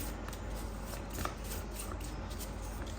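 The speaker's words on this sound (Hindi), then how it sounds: "कुछ यहाँ पर हम इस डेक से कार्ड्स लेते हैं" Tarot cards shuffled from a deck, a steady continuous riffling and sliding of card stock with no pauses, close and moderately loud throughout, with no talking.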